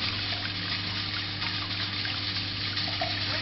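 Water from a reflux still's pump outlet runs steadily back into an ice cream container, a continuous close trickle and splash with a constant pump hum underneath and no talk.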